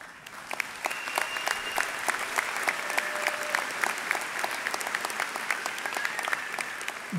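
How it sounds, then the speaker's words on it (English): Graduates at a fall university commencement ceremony applaud steadily, a dense wash of many hands clapping evenly throughout, with a few faint voices mixed in. "give yourselves a round of applause and a pat on the back"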